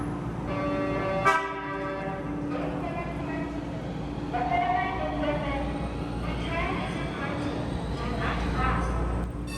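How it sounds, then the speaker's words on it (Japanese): A tram passes a crossing beneath an elevated railway, with a horn or toot, rumbling wheels and street noise, and people talking throughout. "列車が通過します。"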